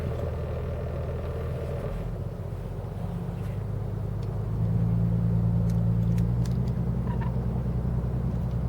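A boat engine held in reverse gear while setting an anchor gives a steady low rumble that swells louder about halfway through as the revs rise, with no talking.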